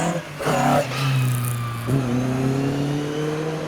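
A Lotus Cortina drives past at a custom car road gathering, its engine revving up in a rising whir, then settling into a steady mid-pitched drone as it moves on, with no talk over it.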